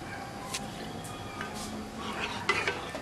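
A spoon scrapes and clinks against a metal pot of curdled milk being stirred as it heats to a boil, soft repeated stirring with a few brighter clinks near the end over a steady low background hiss.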